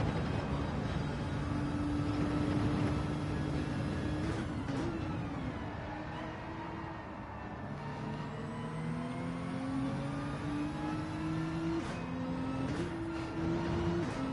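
A race car in Gran Turismo 7 at Kyoto Driving Park drones steadily from onboard, its engine pitch dipping and then climbing again as it downshifts and pulls back up through the revs, with no talk.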